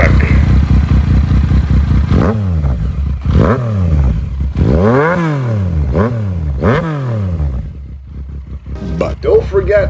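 A Yamaha FZ-09 motorcycle engine revs loudly and close by in repeated sharp throttle blips, each rising and falling quickly, with a popping, snarling exhaust and a quieter idle in between.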